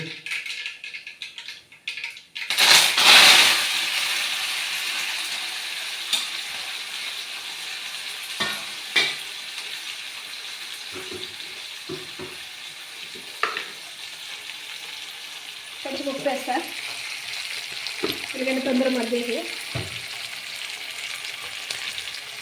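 Onions sizzle and fry in a pan, a steady hiss broken by occasional scrapes and clatters of stirring, with a louder burst near the start and softer clinks later on.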